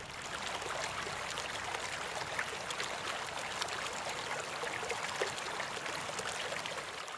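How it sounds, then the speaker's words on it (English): Water flowing through a frozen river, a steady broadband rush and trickle heard up close and continuous throughout, with no voices. "handheld of water in a frozen river"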